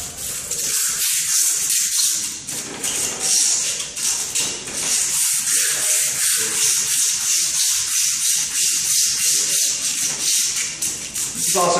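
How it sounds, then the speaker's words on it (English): A thin strip of mechanical-sander sandpaper is looped and rubbed back and forth around a kettlebell handle, making a steady close-up rasping scrape in repeated strokes with no talking. "So I take sandpaper."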